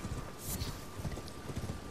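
Horse hooves clip-clop steadily over ground in the video game Elden Ring, a quick rhythmic trot of close, moderately loud footfalls with a brief whoosh partway through and no talking.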